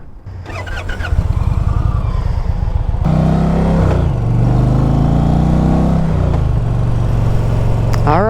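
An Indian Pursuit Power Plus 112 motorcycle rides and accelerates, its engine throbbing loud and close with a steady rumble and rising revs throughout, alone without talk.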